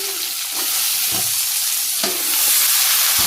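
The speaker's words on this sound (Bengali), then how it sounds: "নেড়ে চড়ে ভেজে নিই, সবজি দিয়ে দিতেছি" Vegetables are stir-fried in oil in a village kitchen, with a loud, continuous close sizzle. Periodic scraping strokes from stirring come through, and no voices are heard.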